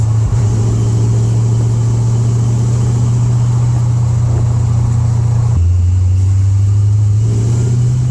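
A car engine drones loud and close, then drops abruptly in pitch partway through as it starts to falter like it is running out of gas, with no talking.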